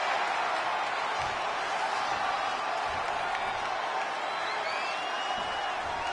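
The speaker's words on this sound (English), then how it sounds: "We've got a raucous crowd here in Philadelphia tonight" A video-game wrestling arena crowd in Philadelphia in WWE 2K20 roars as a steady wash of cheering and noise, loud and continuous without clear breaks.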